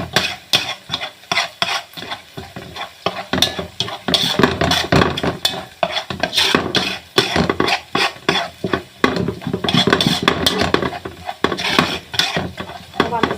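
Onions sizzle in a pan, lightly fried for stuffed vegetables, while a spoon scrapes and stirs them repeatedly, a busy irregular clatter up close.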